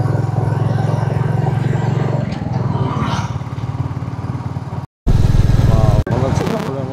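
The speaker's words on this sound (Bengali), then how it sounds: "রয়্যাল এনফিল্ডের অ্যাকচুয়াল টেস্টটা আমি এখন পাচ্ছি এই পাহাড়ি রাস্তায় চালানোর পরে" A Royal Enfield Classic 350 rides along a hill road, its single-cylinder engine thumping loudly and steadily close by, cutting out briefly before returning under wind buffeting, with someone talking over it.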